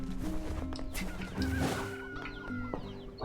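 A man sings a made-up song made of chicken clucks, the voice imitating a clucking hen in a steady rhythm over a busy musical backing.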